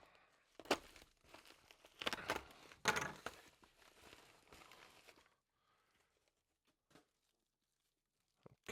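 Plastic shrink wrap on a new G-Shock watch box is crinkled and torn at close range in several loud bursts, followed by silence with a couple of faint ticks.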